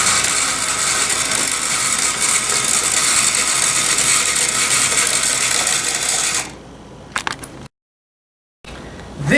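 A lead screw on an FTC competition robot driving a telescoping slide upward, giving a loud, dense mechanical whirr and ratcheting grind that runs steadily, then drops away to a few faint clicks and brief silence.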